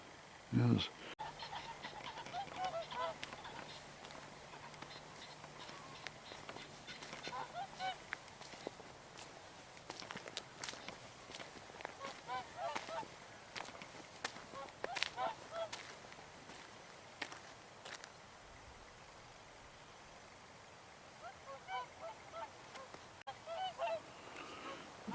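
Swans call back and forth on a Scottish loch, with scattered honking cries at low to moderate level over a quiet outdoor background; occasional faint footsteps can be heard.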